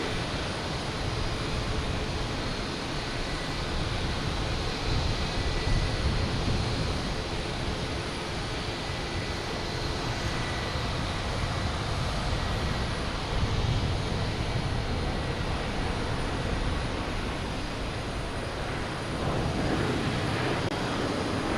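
A Southwest airliner arriving from Nashville to land at Boston Logan Airport, heard as a continuous broad jet roar that holds steady and fairly loud throughout, with no voices.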